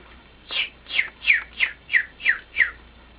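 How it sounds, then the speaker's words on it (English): Small birds chirp in the evening, seven short bright tweets in a steady rhythm about a third of a second apart, close and fairly loud over a quiet background. "this is our little evening with the birds"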